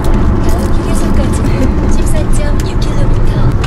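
Inside a car on the first day of a family road trip to an island in Korea, a loud, steady road and engine rumble runs throughout while people talk over it.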